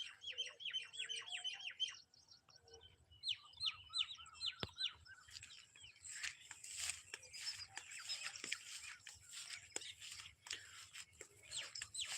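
Sparrows chirp beside rice fields in the morning, rapid bright tweets and twittering calls, faint and a little distant, with a quieter stretch before a denser chorus; no talking.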